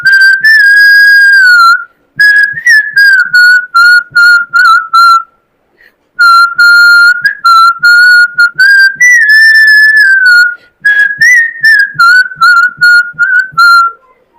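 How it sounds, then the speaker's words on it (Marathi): A person whistles a song with clear, loud, pure tones, moving through melodic phrases in bursts separated by short pauses and rising and falling in pitch. "आता वेळ झालेली आहे शिट्टीच्या गाण्याची."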